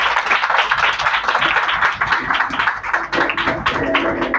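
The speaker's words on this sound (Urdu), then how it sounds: "خدا کے جلال کے لیے زوردار تالیاں بجائیے۔" Dense clapping from a church congregation during an Urdu sermon, steady and fairly loud throughout, with many hands overlapping into a sustained patter.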